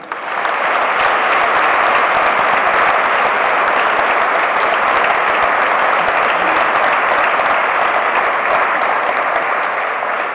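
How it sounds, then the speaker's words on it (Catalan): A large audience applauds a ballet troupe from Cocentaina at a Cant de la Sibil·la festival performance in L'Olleria, a dense, steady roar of clapping that holds at full strength for about ten seconds with no speech over it. "un aplaudiment també per al ballet Alicia Montalva de Cocentaina"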